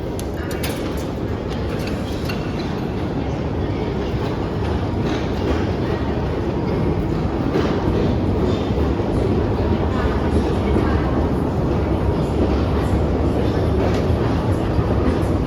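A steady, loud rumble of a Yerevan metro train in motion fills the whole stretch, with rattling and clacking and a voice faintly under the noise.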